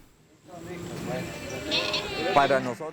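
Dorper sheep bleat in a farm setting, several wavering, nasal calls rising and overlapping close by over a quiet background, the loudest cry coming near the end.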